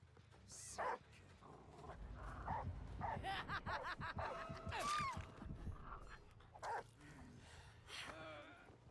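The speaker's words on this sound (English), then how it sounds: "Dog just going everywhere is so funny." Frantic dog sounds from the hound in the Dead by Daylight video game, busy yips, whimpers and barks amid dense game noise and music, with short bursts through the stretch.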